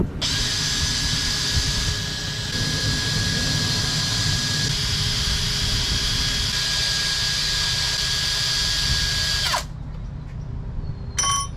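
A wire wheel on a power tool grinds steadily against an aftermarket intercooler pipe, stripping its coating during a turbo install on a K24-swapped Honda Civic; the high whine runs continuously for about nine and a half seconds, then cuts off.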